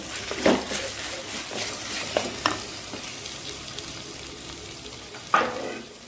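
Marinated chicken sizzles and fries in a hot pan while being stirred, a steady crackling hiss broken by a few louder scraping stirs, close and moderately quiet.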